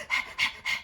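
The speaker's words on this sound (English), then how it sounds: "if you hear heavy breathing, that's my dog" A dog pants heavily nearby in three rhythmic, breathy bursts, each strong puff separated by a short pause, with no voices over it.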